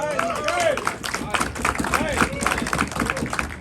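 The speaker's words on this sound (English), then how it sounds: "round of applause" Audience clapping at a Chanukah gathering, dense and sustained throughout, mixed with crowd hubbub and overlapping voices.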